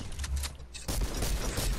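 Rapid video game gunfire plays up close, a dense volley that swells and grows louder in the second half of the short stretch.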